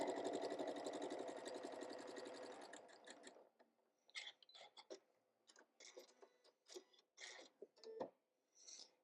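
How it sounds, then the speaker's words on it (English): A sewing machine runs steadily for about three seconds, stitching along a laser line with a fast, even mechanical chatter, then stops and gives way to scattered clicks and handling knocks. "now we're going to run the laser line right from point to point and stitch."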